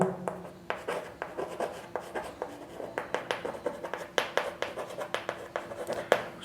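Pen or chalk scratching out figures by hand during a Class 6 math lesson on LCM, a quiet run of short, quick strokes with brief pauses between them.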